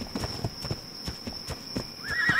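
A horse in ARK Ragnarok clops along with steady, close hoofbeats, then lets out a short whinny near the end. There is no speech.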